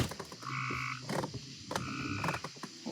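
Frogs croak in a pond at night, with repeated loud, tonal calls overlapping in bursts, several voices answering one another close by.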